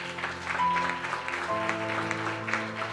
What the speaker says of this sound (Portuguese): Salva de palmas para eles.